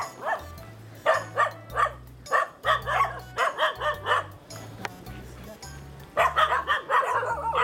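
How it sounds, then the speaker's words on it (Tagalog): Several dogs bark and yip in quick, uneven bursts at an outdoor spot by low water, loud and close, with a voice speaking briefly between the barks. "Sino yung mga aso di dyan?"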